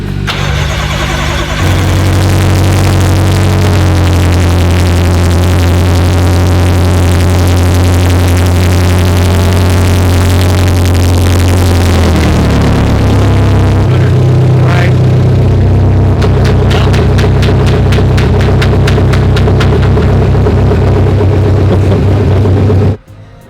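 A built BMW M5 engine cranks and fires on its first start, then settles into a loud, steady idle with a change in pitch partway through before cutting off near the end.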